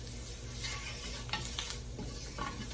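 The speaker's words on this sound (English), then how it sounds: "we're gonna make sure this is all nice and sauteed" Onions sautéing in a pot of liquid for Albanian northern bean stew, giving a soft, quiet sizzle with a few light scraping stirs at close range.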